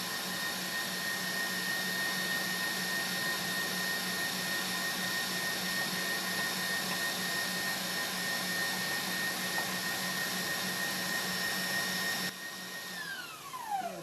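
An electric mixer whirs steadily, beating cheesecake batter of cream cheese, eggs, vanilla and sour cream: a constant motor whine near and alone, winding down at the very end.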